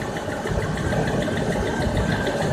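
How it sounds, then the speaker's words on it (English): Land Rover Discovery 4.0L V8 idling steadily after a timing chain and oil pump rebuild, close and loud, with a faint rhythmic tapping lifter ticking under the engine hum. "I just heard another lifter start to tap."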